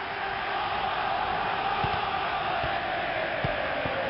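Stadium crowd noise from the FIFA 2000 football video game, a steady broadband roar of a packed stand at the start of a match, with a few faint low thumps beneath, continuous and unbroken for the whole stretch.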